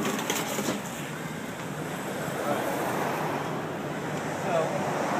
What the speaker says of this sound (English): It's kind of traffic time. Everybody's passing through here.